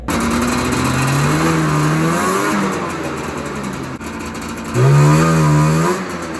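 Snowmobile with a 108 EXP clutch, a Liquifire sled on a 1.25-inch-wide belt, revving loud and close, engine pitch rising, dropping, then climbing again in a double-shifting pattern, with no talking.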